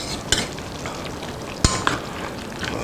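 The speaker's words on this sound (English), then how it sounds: "Give that a good stir." A spoon stirring beef soup in a pot, with occasional clinks against the side over a continuous bubbling, sizzling simmer.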